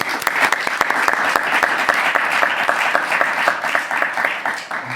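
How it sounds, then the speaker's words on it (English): A conference audience applauds loudly and continuously, a dense wash of many hands clapping close by for the whole stretch, with no talk over it. "a warm, big applause by all of us, first and foremost, for your final spoken words"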